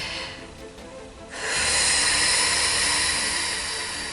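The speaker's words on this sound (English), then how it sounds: "we close our eyes and we take our breaths, and I'm talking deep breaths" A slow, deep meditative breath: a soft airy inhale, then a long, loud rushing exhale that swells and holds near the microphone, with no talking.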